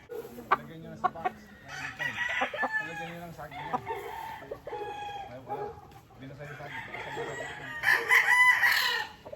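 Gamefowl roosters of Boston and Mule Train Hatch breeds crow repeatedly at close range, with clucking between the calls and a louder drawn-out crow near the end, under faint background talk.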